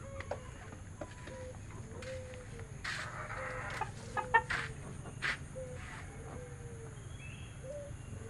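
Four-month-old Elba chickens, one rooster and four hens, cluck softly and intermittently in a postal-style pen, with scattered short calls over a faint hum.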